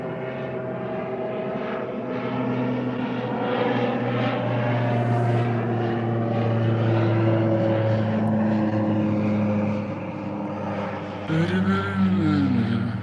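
A propeller airplane flies overhead, its droning engine swelling loudly and holding for several seconds before fading slightly, with a short burst of other noise near the end.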